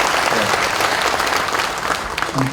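A church congregation applauds at an ordination ceremony marking Eden Church's 57th anniversary, a short, dense burst of clapping heard loud and close, with a voice starting to speak just as it ends.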